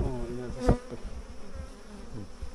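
Bees buzz close by around a hive, a wavering drone that swells as one passes near, with a faint voice briefly in the background.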